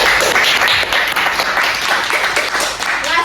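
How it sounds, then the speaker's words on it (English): An audience at a student talk show claps in a round of applause, a loud, sustained wash of many hands clapping together without a break, with some speech mixed into it. "Let's give all of us a round of applause"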